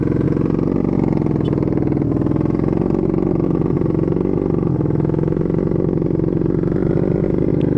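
A Honda Beat ESP 125cc scooter fitted with an Empush EM1 round aftermarket exhaust drones loudly and steadily nearby, its engine holding a throaty, even note with a slight waver and no sharp revs.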